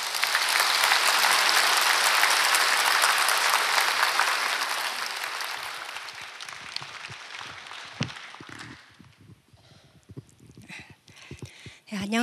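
A church congregation applauds in a dense, loud wash of clapping that fades after about six seconds into scattered claps, shuffling and a few faint voices.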